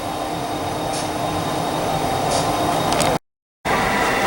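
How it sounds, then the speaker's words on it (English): A Conrail run-through train arrives on the Southern Railroad's Rathole Division, set in 1981, as a steady rolling rumble with faint wheel squeal, close and continuous until a brief dropout near the end. "we got everybody standing here waiting for the next train to arrive. And here it comes. This would be the Conrail run-through."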